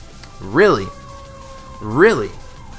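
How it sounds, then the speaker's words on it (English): Two rising-and-falling siren wails sound outside, each about half a second long, under a hum of ambient noise. "look at that, there's sirens outside"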